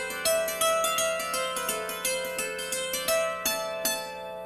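Hammered dulcimer playing a steady roll of rapid, evenly spaced hammer strikes on ringing metal strings, bright and close, without anticipation from the subordinate left hand, alone with no talk.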